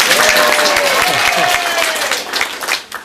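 Crowd of spectators at a gator show in Silver Springs clapping and cheering, a loud burst of applause with whoops that thins out toward the end.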